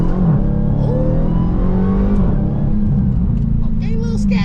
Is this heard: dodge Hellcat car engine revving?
yes